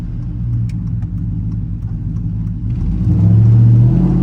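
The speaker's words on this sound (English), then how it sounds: "The truck is working really well." A pickup truck drives along a road, its engine a steady low rumble heard from inside, then rising into a louder, deeper drone as it accelerates near the end.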